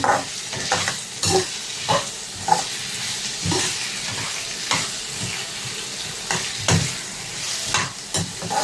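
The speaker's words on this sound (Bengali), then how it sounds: "আমি ভালো করে এটাকে এবার একটু নাড়াবো।" Onions with salt being stirred and fried in a pan, a steady loud sizzle broken by repeated scraping strokes of the spoon at an irregular rhythm, close up, with no voices.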